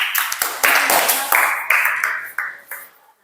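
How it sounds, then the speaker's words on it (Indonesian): A small group of students claps hands together in a classroom after a group presentation, with sharp, uneven bursts of clapping that taper off toward the end. "Oke, tepuk tangan."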